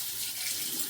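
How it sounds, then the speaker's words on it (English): Warm tap water runs steadily into a bathroom sink while rusty brake reach adjustment screws are rinsed clean, a continuous close hiss of flowing water with no voices. "I'm just gonna rinse it all off with warm water."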